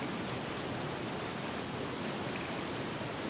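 Waterfall in an animated scene, heard from behind the cascade as a steady, soft, even rush of falling water with no pauses.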